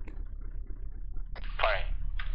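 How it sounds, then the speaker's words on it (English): Warning shots from a weapon in the military shooter Arma 3, two brief sharp bursts near the end of the clip over low engine rumble, preceded by quieter activity. "Firing warning shots."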